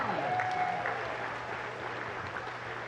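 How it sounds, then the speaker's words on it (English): Crowd applause in a gym at a varsity boys' basketball game, Pioneer against Saline, steady and moderate, carrying evenly throughout with a faint whistle-like tone early on. "How about a round of applause for Erica Sy?"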